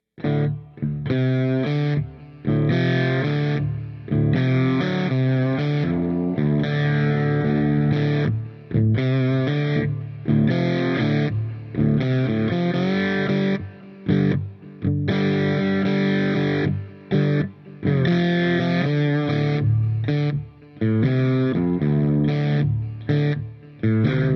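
A distorted lap steel guitar plays a simple blues groove with effects, alone and up close, in steady repeating chordal phrases with gliding slides between notes.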